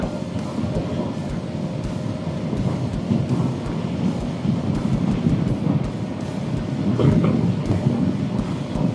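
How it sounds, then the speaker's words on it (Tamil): Strong wind roaring across the microphone during a ride on a Suzuki V-Strom motorcycle, a constant low buffeting rush with steady engine rumble beneath, close and loud throughout. "சில்லுன்னு வந்து ப்ரீஸ் அடிக்க ஆரம்பிச்சிருச்சு"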